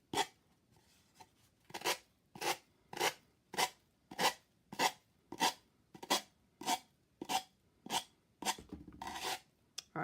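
Steady rhythmic rasping strokes of a sanding block over dried Mod Podge, about sixteen even back-and-forth passes, close and fairly loud, no voices.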